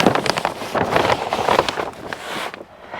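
Gusty wind buffets the microphone outdoors beside a newly built garden pond, a loud rumbling roar that surges and then drops away near the end.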